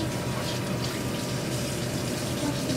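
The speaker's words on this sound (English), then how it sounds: "I'm gonna wash my knife." Tap water running steadily into a kitchen sink while a knife is washed during mayonnaise preparation, a close, constant rushing splash filling the short stretch with no pauses.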